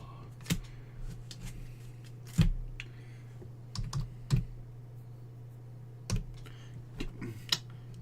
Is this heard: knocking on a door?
no